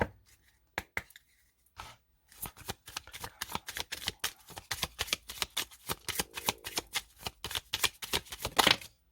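A deck of cat-themed oracle cards being shuffled by hand, close and crisp, starting with a few isolated flicks and then running as a steady, rapid series of card riffles and slaps that builds to the end.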